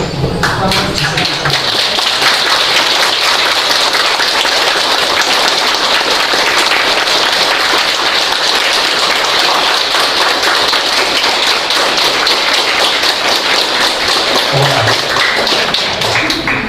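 Loud, close, continuous clapping from a standing audience during a venerable Buddhist master's visit to Fo Guang Shan. The crisp hand taps run at a steady pace for the whole stretch, with faint murmurs at the start and end.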